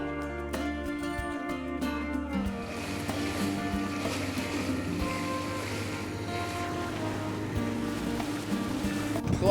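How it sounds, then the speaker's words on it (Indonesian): Boat idling on open sea before heading out, with a steady low rumble and broad wash of waves and wind running continuously, plus faint tonal background sounds and occasional knocks. "kapal sedang standby untuk berangkat ke tengah"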